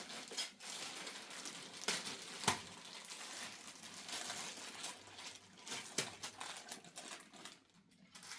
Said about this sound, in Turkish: Şu poşetini açalım.